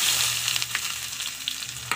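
Onion and garlic sizzle in hot oil in a nonstick pan, giving a steady hiss with scattered crackles and occasional stirring clicks nearby.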